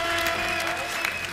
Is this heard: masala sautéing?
no